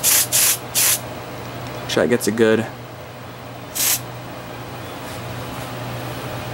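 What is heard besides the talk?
aerosol smoke detector tester being sprayed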